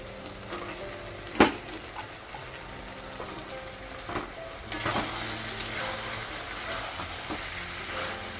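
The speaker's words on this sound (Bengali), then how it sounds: "বেগুন আলুটা কষে নেবো তারপর সজনাটা লাগাবো" Eggplant and potato stir-fried in a pan, a quiet steady sizzle with scraping stirs and a few sharp clinks of the spatula against the pan, no talk.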